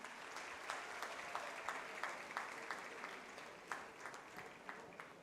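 A crowd applauds at a helmet handover ceremony, a faint, steady wash of clapping with occasional louder claps, heard from a distance.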